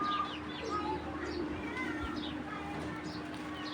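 Racing pigeons coo in a loft, soft repeated throaty calls close by with light chirps and rustling in the background.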